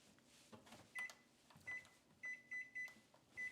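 Kitchen oven timer, set for a 400-degree bake, giving a run of short electronic beeps in an irregular pattern, fairly quiet against a low hum and faint kitchen clatter, with no talking.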